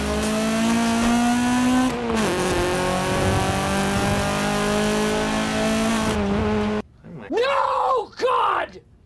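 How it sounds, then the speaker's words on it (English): A car engine in Forza Horizon 5 revving hard with a rising VTEC-style wail, loud and close, with pitch climbing and dropping across gear shifts, then a short quiet gap and a voice groaning in reaction. "here's an example of the sound that it makes in Forza Horizon 5"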